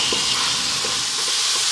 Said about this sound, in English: Chicken breast, no skin, no bone, cut into cubes. Lively heat, 4 minutes, give it a stir every now and then.